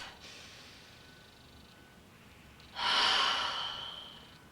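A single deep breath taken close to the microphone, a soft breathy inhale swelling near the end, in an otherwise quiet room.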